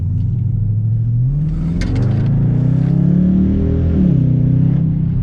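Dodge Charger RT fitted with performance mufflers and a resonator delete, its loud, deep exhaust rumbling close by and rising through a strong rev before easing off, with no talking.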